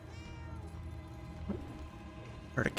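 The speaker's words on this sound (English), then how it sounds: "Heard a cat." A cat in Murdered: Soul Suspect gives a faint, drawn-out meow over low game ambience, followed by a brief louder sound near the end.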